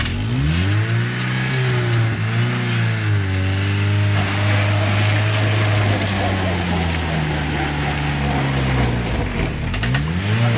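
An Opel Frontera 2.0i petrol engine revs under throttle, its pitch rising and falling in repeated surges. The engine is loud and close, with a voice heard faintly beneath it.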